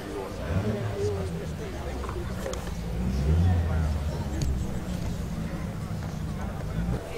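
An HWM classic racing car drives past at a vintage motoring event on a former RAF airfield, its low engine rumble swelling to a peak midway and then fading, with crowd chatter and other voices in the background.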